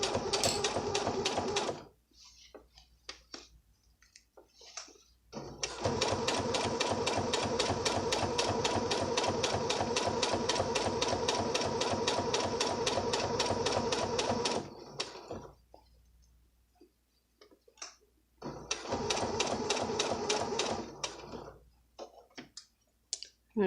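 A sewing machine stitches a centered zipper with a zipper foot in three steady, rapid runs of even mechanical clatter, broken by short pauses for pivoting, all close and loud.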